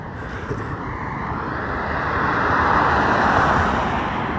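A jet airplane passes overhead as a steady broadband roar that swells gradually toward a peak and then eases slightly, with no voices over it.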